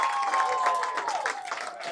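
Stadium crowd at a football game cheering and applauding in a steady, dense wash of claps and voices, loud and continuous throughout.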